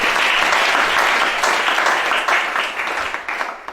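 Audience applause, loud and sustained clapping from a crowd that stays full for a few seconds and then gradually thins out.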